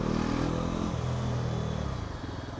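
A Bajaj Pulsar NS400Z motorcycle fitted with new Pirelli tyres rides along at low speed, its engine humming steadily with a slight falling pitch and some road clatter, heard alone at moderate volume.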